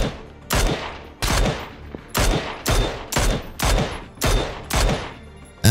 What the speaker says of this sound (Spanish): Varios disparos que provienen del recinto